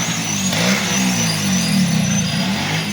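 Honda Dio scooter with a freshly cleaned carburetor running close by, a steady buzzing engine drone that swells slightly as it is revved and settles back toward idle, no voices.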